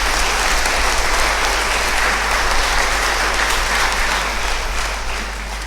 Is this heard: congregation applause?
yes